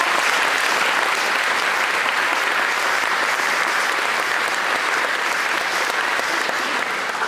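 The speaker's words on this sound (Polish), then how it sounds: "Jeszcze raz gorące brawa dla naszego przyjaciela." A concert audience at the Opole Philharmonic gives a friend warm, hearty applause, a thick, even roar of many hands clapping that holds steady and loud from start to finish with no talk over it.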